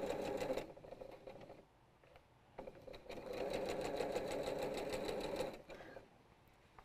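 Sewing machine stitching quilt strip pieces without back tacking, running in bursts with short pauses between, a rapid mechanical chatter heard close but at moderate level, with no talk over it.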